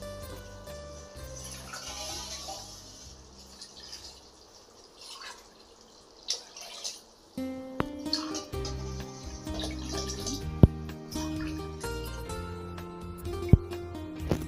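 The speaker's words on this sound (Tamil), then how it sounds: "4 டம்ளர் அரிசிக்கு வந்து நான் 8 டம்ளர் தண்ணி ஊற்றிட்டேன்" Water pours into soaked basmati rice for chicken biryani, a splashing, trickling stream heard up close, followed by scattered drips and clinks over background music.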